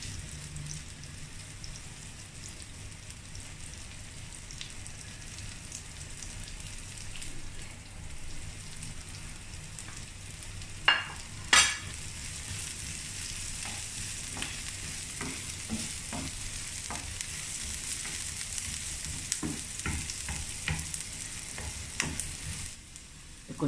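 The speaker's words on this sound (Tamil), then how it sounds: "இது வந்து சின்ன வெங்காயம், இது வந்து கடுகு தாளிப்பு" Shallots and mustard seeds frying in tempering oil for a kuzhambu, a steady sizzle with crackling pops, a couple of sharp knocks midway, and the frying growing brighter and busier toward the end.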